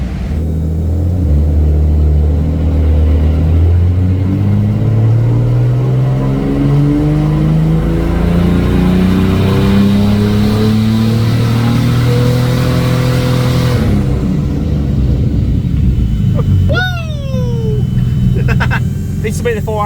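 A turbocharged car nicknamed Penny pulls a boosted power run on a dyno, its engine note climbing steadily and loudly for about fourteen seconds before cutting off, followed by a few sharp whistling chirps as the revs fall away.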